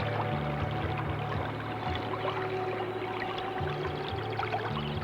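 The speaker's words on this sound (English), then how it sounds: "the sound of the water tumbling over the rocks" Water tumbling over rocks in a tropical setting of flowers, trees and wild birds, a steady wash of rushing, pouring water that runs continuously without pause, with a faint low hum and a few soft droplet splashes throughout.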